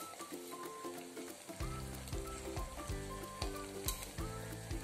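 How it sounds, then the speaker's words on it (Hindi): Ghevar batter frying in hot oil in a tin container, a steady crackling sizzle that swells after the first second and keeps bubbling, with light stirring clinks. "इसी तरह हमें देखते रहना है और डब्बे के साइड से उसे निकालते रहना है।"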